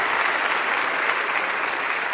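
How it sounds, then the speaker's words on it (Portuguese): Steady, dense applause from a stand-up comedy show audience fills the whole stretch at an even level, with no talking over it. "Uma salva de palmas pra vocês que colaram aqui."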